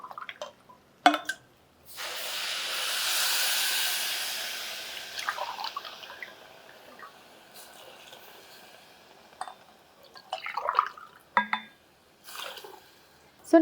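Water pours into a pot of oats khichdi, a steady gushing hiss in the first seconds, then quieter drips, clinks and handling sounds in a kitchen.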